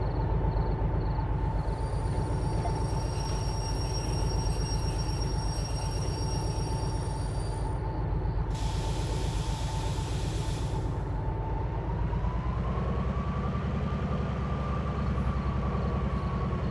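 A locomotive in a train video game runs on rails with a loud, constant rumble and steady clatter. A sustained tone rises slightly near the end, and a brief hiss joins midway.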